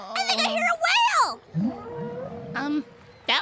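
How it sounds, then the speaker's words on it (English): A cartoon character's hungry stomach rumbles like a whale out on the ocean in a children's show, heard as low, wavering moans that rise and fall among lively voices. "That was my tummy. I'm getting hungry."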